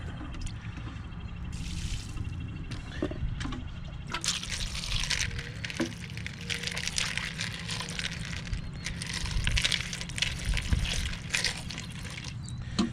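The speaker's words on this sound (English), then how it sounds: "Rinse it out again." Water runs and splashes over tumbled rocks in a bowl as they are rinsed, a continuous close trickle and gush with clattering stones, steady throughout.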